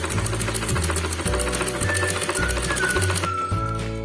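A sewing machine stitches piping onto a sleeve in rapid, rhythmic bursts of mechanical clatter. It pauses briefly between runs and sounds close and loud with no talk.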